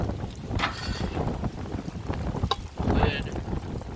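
Gusty outdoor wind rumbles and buffets loudly across the microphone, rising and falling in bursts with faint clatter in the background.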